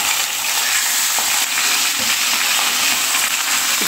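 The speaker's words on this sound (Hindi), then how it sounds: "तो कतला फिश का हेड पहले फ्राई कर दूंगी" Large Katla fish head frying in a pan of hot oil, giving a steady, close, bright sizzle with small crackles and spits throughout, no talking.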